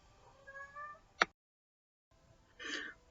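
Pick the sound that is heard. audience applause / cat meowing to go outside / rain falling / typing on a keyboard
cat meowing to go outside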